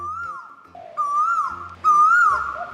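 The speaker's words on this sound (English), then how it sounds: "these are called Asian Koels, which we all call the owl bird" Asian koels give three loud, rising whistled calls in close succession, each a clear tonal hoot that swells and falls, heard nearby with no talking.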